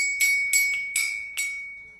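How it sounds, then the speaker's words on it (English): Four bright bell strikes ring out in a steady rhythm against a constant high tone, each one decaying quickly. They are loud and close, with no voices over them. "Well, it sounds like jingle bells."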